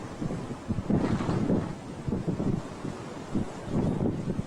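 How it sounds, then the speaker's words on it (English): Strong coastal gusts at Plymouth buffet the microphone in low, uneven rumbling bursts, rising and falling with no voices heard. "Very windy."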